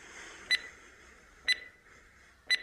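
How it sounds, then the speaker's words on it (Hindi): Animated head-treatment timer in a 2D ASMR animation, ticking off three short, bright electronic beeps spaced about a second apart over a quiet background hum, with no speech. "तो देखिए टाइमर चलने भी लगा है"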